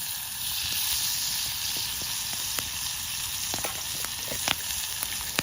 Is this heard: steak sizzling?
yes